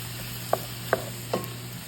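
Ground beef and onion fry together in a pan with a soft, steady sizzle, broken by three distinct scraping knocks as a utensil stirs and mixes them.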